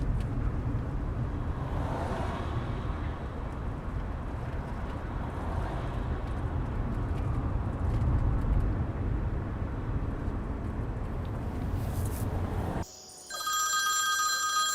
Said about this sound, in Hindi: नाजली का फोन है।